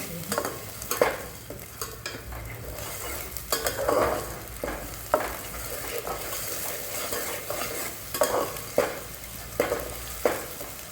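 Drumstick vegetable masala with ground garlic sautéing in a pan, a low sizzle broken by repeated clanks and scrapes of a spoon stirring against metal.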